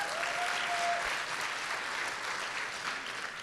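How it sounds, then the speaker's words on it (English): A gala opening ceremony audience gives a steady round of applause for the sponsor Rocketbook, a dense, even wash of clapping that holds for a few seconds and eases slightly at the end. "Give a round of applause for Rocketbook."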